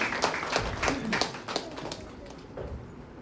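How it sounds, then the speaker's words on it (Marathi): A church congregation claps steadily to thank God during a Sunday service: a soft, even run of hand claps at a moderate pace, somewhat distant and fairly quiet in the room. "टाळ्या वाजवून देवाला धन्यवाद"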